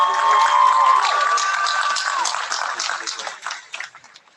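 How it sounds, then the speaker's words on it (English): Graduates at the Southern University and A&M College Spring 2021 commencement break into applause and cheering. A voice carries over the start, then a broad wash of clapping swells and slowly thins out. "Give yourselves a round of applause because you certainly deserve"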